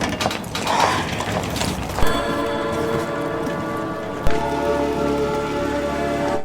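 Heavy rain hisses steadily outside a moving train, mixed with mechanical rattling and a couple of sharp clunks, in a film scene.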